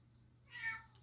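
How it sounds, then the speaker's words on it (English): A house cat gives a single soft meow in the background of a quiet indoor room, brief and mid-distance. "Just me this week and my cat Oscar"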